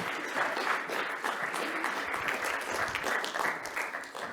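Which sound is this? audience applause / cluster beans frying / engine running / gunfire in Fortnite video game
audience applause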